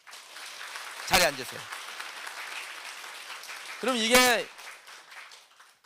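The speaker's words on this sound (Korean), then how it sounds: "우리 박수 한번 주세요." A Korean church congregation applauds during a Sunday service, a soft, steady patter of clapping running under someone speaking over it.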